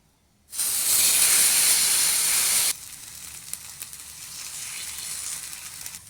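Rava dosa batter hits a hot oiled pan with a sudden loud hiss and sizzle that holds steady for about two seconds, then drops to a softer, crackling fry that carries on alone.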